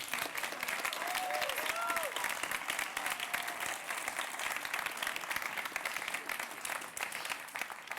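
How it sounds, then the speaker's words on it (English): An audience at a gala awards ceremony applauds the winning student teams with sustained, dense clapping from a large crowd, plus a few brief whistles near the start. "let's have a big round of applause for our winning student teams"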